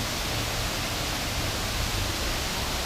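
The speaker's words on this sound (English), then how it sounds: "It has a 22-foot waterfall." A 22-foot urban waterfall in Pioneer Square, Seattle, pours as a steady, dense broadband rush with no pauses, close and fairly loud throughout.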